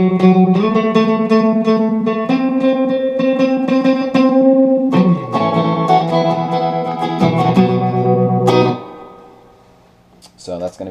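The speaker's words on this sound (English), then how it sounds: "So that's going to be the tremolo and the reverb." An electric guitar played through an intense optical tremolo and a springy reverb pedal on a worship pedalboard, loud sustained chords pulsing rhythmically, then a short strum fading into a long reverb tail.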